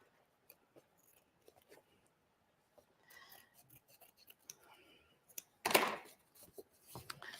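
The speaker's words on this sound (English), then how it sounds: "so I'm just going to use the scissors." Scissors snip through cardstock for a handmade embroidered Christmas card, starting as faint scattered clicks and soft rubbing, then a run of quiet cuts and one louder, closer snip near the end, with no voices.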